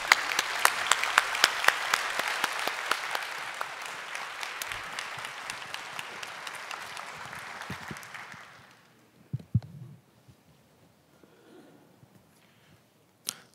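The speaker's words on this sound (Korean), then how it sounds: "우리 나오실 때 박수로 맞이해 주시길 바랍니다." Church congregation applauding at a Thanksgiving Sunday service as a member comes forward to speak, steady full-room clapping for about eight seconds, then fading out into a few scattered claps and quiet.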